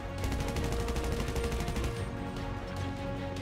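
Rapid gunfire bursts from a GTA 5 roleplay police shootout, loud and continuous, with overlapping shots and dense rattling fire filling the whole stretch before easing slightly toward the end.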